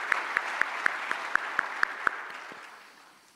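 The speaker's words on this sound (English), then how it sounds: "A round of applause for the people from the IAAPA." Slow, evenly spaced claps, about nine sharp hits, then fading crowd noise at the IAAPA Expo 2019 kickoff event, fairly near and unaccompanied by talk.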